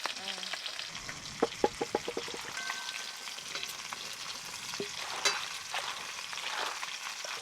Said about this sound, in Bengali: এদিকে আমার লবস্টারগুলো ভাজা হয়ে গেছে, তুলে নেব